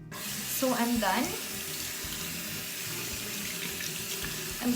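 Hot water runs steadily from a sink tap to rinse sugaring paste out of muslin strips, a continuous close splashing stream with a few brief gurgling tones near the start.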